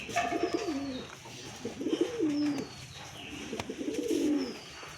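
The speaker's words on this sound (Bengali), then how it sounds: "দেখুন পায়রাটা কীভাবে ডাকছে" A pigeon coos nearby in repeated rolling phrases, three throaty bursts with soft pauses between them.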